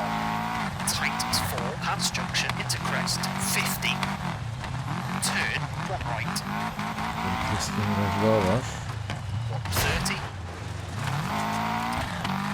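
Rally car from EA Sports WRC racing along a stage, its engine revving and shifting continuously with tire noise over the surface, loud and close, with someone talking over it.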